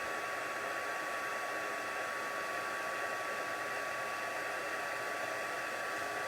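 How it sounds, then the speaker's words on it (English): A craft heat tool blows steadily and close, a constant loud fan whoosh with a faint high whine, unbroken throughout. "So let's pull in our heat tool. Give it just a second to warm up."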